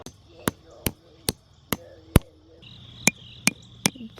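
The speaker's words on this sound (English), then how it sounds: "taking the hammer to the stakes and making sure they get in the ground securely" A hammer drives fence stakes into the ground outdoors, with about nine sharp, evenly spaced strikes, a short pause and then more blows. A faint insect-like buzz hangs in the background.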